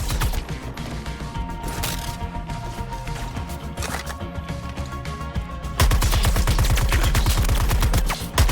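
Rapid bursts of gunfire from the action video game Suicide Squad: Kill the Justice League play over a steady game soundtrack, with the shots growing denser and louder in the last few seconds.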